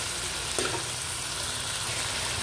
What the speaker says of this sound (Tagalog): Habang niluluto natin ang sibuyas at saka kamatis, halu-haluin natin para hindi masunog.